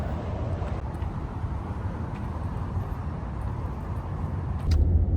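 Steady low engine hum and road rumble inside a moving car, continuous and even, swelling slightly louder near the end, with no talking.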